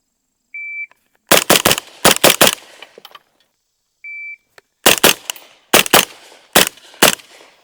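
Two short electronic shot-timer beeps at an outdoor range, each followed by a quick string of about five loud, sharp shots from a suppressed IWI Carmel rifle. No one speaks.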